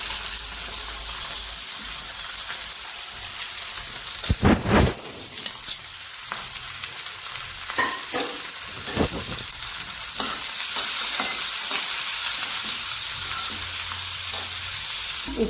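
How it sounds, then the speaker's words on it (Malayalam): Quartered small onions, half a kilo, sautéing in a pan as an ulli theeyal is cooked: a steady close sizzle with scraping stir strokes and a few louder clatters, no talking. "ഇനി നമുക്കതിനൊന്ന് വഴറ്റിയെടുക്കാം."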